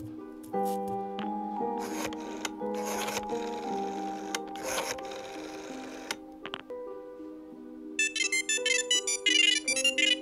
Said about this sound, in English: I'm gonna call the phone.